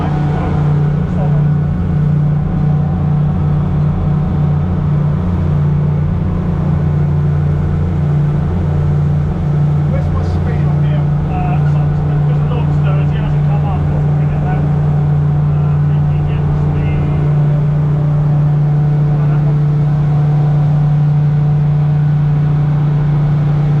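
Steady, loud boat engine drone hums throughout during a sea trial, a constant low rumble with rushing noise over it and no clear changes in pitch.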